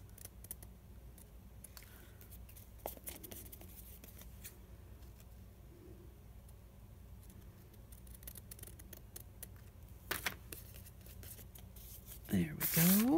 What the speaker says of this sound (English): Flatten it out nice and flat and get the edges cut off.